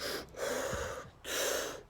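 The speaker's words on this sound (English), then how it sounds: "I'm sending my belly out because I'm breathing with my diaphragm into my belly." A person takes a deep diaphragmatic belly breath close up: a rushing, breathy inhale and exhale, then the start of another long breath, with no talking.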